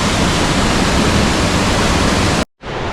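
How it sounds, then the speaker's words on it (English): Snowfalls waterfall on the Ingleton waterfall trail pours heavily over the top, a loud, dense, continuous roar that cuts off abruptly near the end and then resumes. "there's quite a bit of water coming over the top there"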